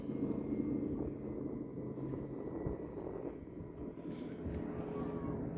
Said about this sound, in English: Now I got some wave runners that want to come past.